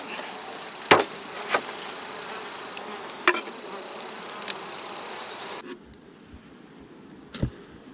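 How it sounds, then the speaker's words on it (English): Honeybees from a hive split buzz in a steady drone, with a few sharp knocks and a brief handling rustle partway through, the hum carrying on more quietly afterward. "Wow, good number of bees."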